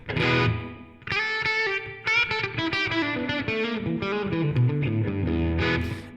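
Electric guitar through a TONEX ONE pedal plays a distorted chord run with a lingering, spacious reverb tail washing behind the notes, loud and up front.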